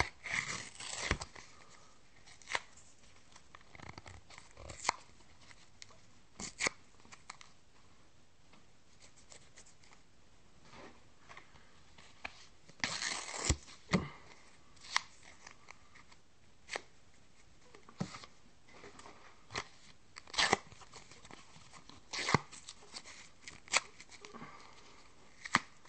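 A Magic: The Gathering card pack being ripped open up close, soft crinkling foil and paper tears in scattered bursts with quiet pauses between, faint and intimate.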